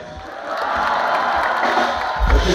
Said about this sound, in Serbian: Aplauz za devet!